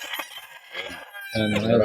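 Chickens and roosters at a gamefarm crow and cluck, a loud rooster crow rising near the end, with someone talking over the birds.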